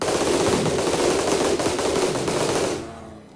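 Gunfire in the modded Rimworld video game, a dense continuous rattle of rapid shots that stays loud for nearly three seconds and then cuts off abruptly.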